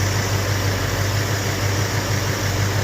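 A Chevrolet Monte Carlo SS454 engine idles steadily with a low, even drone, running alone and close by after thermostat and radiator cap work.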